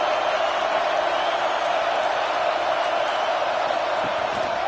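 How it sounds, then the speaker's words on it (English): A big football stadium crowd roars in a steady wash of noise while the defense tries to make a red zone stop, with no clear talk. "And here comes the noise. This crowd is trying to inspire this defense"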